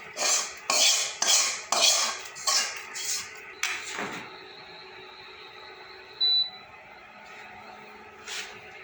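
Fried onion tempering being added to thin rice-and-lentil khichuri in a pot: a run of loud clattering metal pot and spoon hits in the first four seconds, then a quieter steady sizzle with a brief clink near the end.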